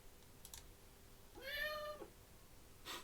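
A single electronic cat meow plays once from an Amazon Echo smart speaker, rising and falling, with a few faint clicks before and after in a quiet room.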